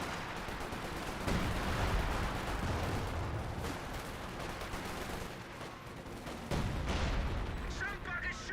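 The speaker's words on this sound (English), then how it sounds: "Somebody's shooting at us." Battle din from the strategy game Company of Heroes 2: a continuous wash of distant gunfire, artillery thumps and explosions, with bursts of louder fire partway through, while a commentator talks over it.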